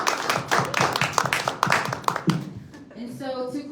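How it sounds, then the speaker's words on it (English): Audience at a town hall on a utility rate hike gives the panelists a brief round of applause: a dense burst of clapping for about two seconds that quickly fades, followed by a voice. "Can we just give them a quick round of applause for joining us this evening"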